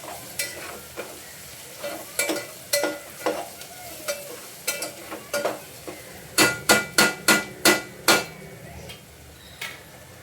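Onions browning in a pan for a Maharashtrian mutton curry, with a soft continuous sizzle beneath repeated sharp scraping strokes of a spoon against the pan, ending in a quick run of clanks.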